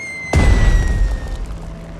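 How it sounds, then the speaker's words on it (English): A heavy bomb explosion dropped from an aircraft in Strategic Mind: Blitzkrieg, a single loud close boom with a deep rumbling tail fading over a second or two. "Fire from the sky. Bombs away, bombs away."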